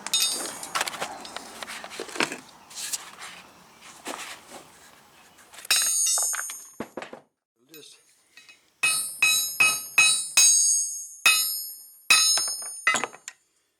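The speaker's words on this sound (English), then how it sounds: "Let me give it a couple whacks" A hammer strikes while shaping a knife made from deer antler. Sharp, close metallic whacks come in an irregular series with short gaps, after some quieter handling noise at the start.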